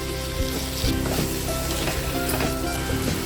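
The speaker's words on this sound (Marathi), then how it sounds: "आता ह्यामध्ये खसखस आणि सुकं खोबऱ्याचं बारीक पेस्ट बनवली होती ती घालून घ्यायची" Poppy seed and dry coconut paste hitting chicken pieces frying in a pan for chicken korma, giving a loud, continuous close sizzle with occasional stirring scrapes and no voices.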